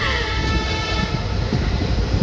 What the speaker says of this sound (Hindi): अभी ट्रेन चली है जयपुर से, अब रुकेगी जोधपुर जाकर ही